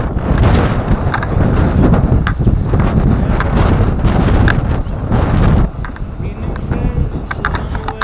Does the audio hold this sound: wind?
yes